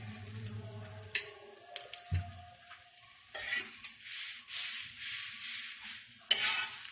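Corn roti cooks on a pan with ghee or oil, soft sizzling and scraping turns with a few sharp clinks of a utensil against the pan, fairly quiet and close, no talking.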